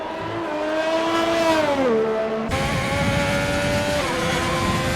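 Ferrari race car in a racing video game, its engine droning at high revs with a falling pitch as it shifts gears, loud and continuous with no talk.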